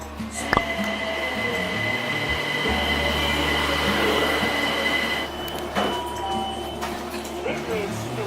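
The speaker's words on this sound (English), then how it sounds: "The next train to arrive at platform is..." Train pulling into a London station platform, a steady low rumble with brakes and wheel noise running throughout, a sharp clank near the start and a long tonal whine, with voices murmuring in the background.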